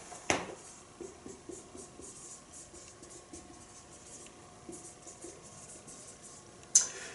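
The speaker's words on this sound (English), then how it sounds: "Let me just quickly write that down for you." A pen writes on a paper worksheet about exploring angles, with soft continuous scratchy strokes, a few louder taps at the start and end, and no speech.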